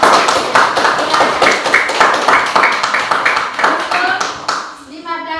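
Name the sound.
classroom clapping for student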